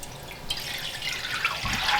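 Beef broth poured into a pan while making beef stroganoff, a steady close liquid splash and trickle with a few drips, running continuously for a couple of seconds.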